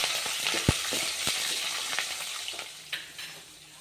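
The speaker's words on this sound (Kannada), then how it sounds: "ಇವಾಗ ಈರುಳ್ಳಿ ಹಾಕಿದ್ದೀನಿ ನೋಡ್ರಿ. ಇವು ಗೋಲ್ಡನ್ ಕಲರ್ ಬರೋವರೆಗೂ ಫ್ರೈ ಆಗುತ್ತೆ ನೋಡ್ರಿ" Onions fry in oil with peanuts, chillies and coriander for Indore poha, a gentle sizzle punctuated by a few clacks and scrapes of stirring, fading slightly toward the end.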